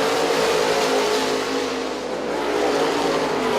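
Race cars in an AELMT heat at I-96 Speedway roar steadily around the oval, a dense, continuous engine drone that holds loud for the whole stretch with no voices over it.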